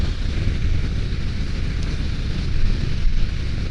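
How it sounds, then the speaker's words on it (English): Constant roaring wind buffeting the microphone while riding a 2023 Harley-Davidson Street Bob 114 motorcycle, loud and broadband throughout with no clear speech. "it sounds like a lot of wind"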